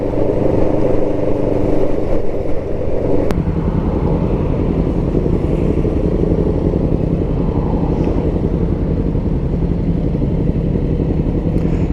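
Kawasaki ER5 motorcycle cruising at an easy, steady pace, its engine a continuous low drone blended with heavy wind rush across the microphone for the whole stretch.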